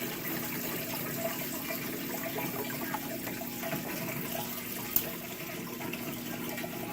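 Tap water runs steadily into a tank being filled for mixing saltwater, a constant soft rushing gush throughout, with one small clink partway through.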